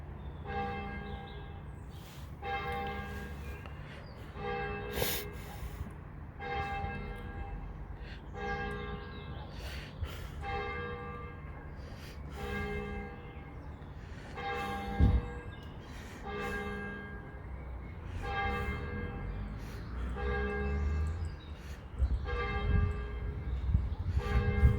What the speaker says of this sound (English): Just listen to the bells.